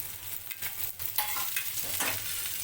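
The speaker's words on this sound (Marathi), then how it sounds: "धना आणि तांदूळ हे पण भाजते." Coriander seeds and rice roast in a pan with a little oil, with soft scraping and stirring strokes and a light sizzle. The sound stays fairly quiet and close, with no talking.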